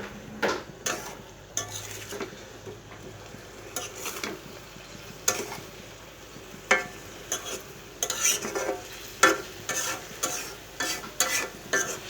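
Sugar stirred in a cooking pan with a spoon, repeated scraping and clinking strokes at an uneven rhythm over a faint sizzle, close and fairly quiet, with no talk.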